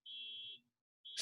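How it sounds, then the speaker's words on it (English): Faint electronic beeping from outside: a steady high tone held for about half a second, then a short silence before a second beep starts, distant and thin. "I don't know if you heard that beeping outside"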